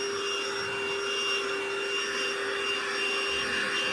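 A Lidl cordless Hoover vacuum cleaner runs on carpet, its motor a steady high whine with a constant airy roar and little change in level.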